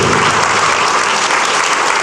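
Loud, sustained applause from an audience at a chamber of commerce awards event, continuous thick clapping with an even level from start to finish.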